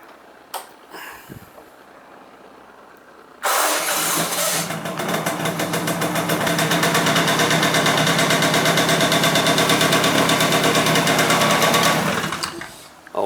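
A 1985 Honda Spree scooter engine, cold, is started after a few quiet clicks, then settles into a loud, steady, buzzing small-engine idle that runs for about nine seconds before cutting off.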